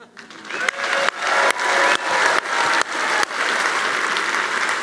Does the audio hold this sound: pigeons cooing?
no